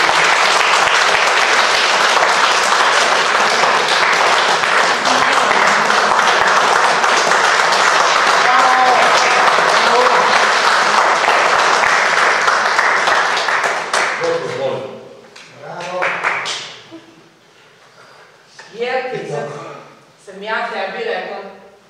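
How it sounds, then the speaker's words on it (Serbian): A theatre audience at a comedy performance breaks into loud, sustained applause that fills the room for about fourteen seconds, then fades as someone starts speaking. "molio bih vas jedan veliki aplauz"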